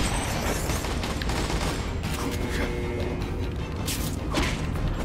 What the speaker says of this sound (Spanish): ¿Dónde vienen los disparos?